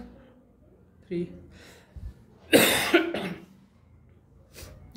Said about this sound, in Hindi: खांसी कितनी हो रही है?